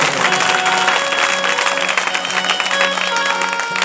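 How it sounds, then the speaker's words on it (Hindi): An audience at a Shrimad Bhagavat Katha religious gathering claps loudly and steadily, a dense wash of applause with a faint musical tone underneath. "जोरदार ताली बजाएंगे।"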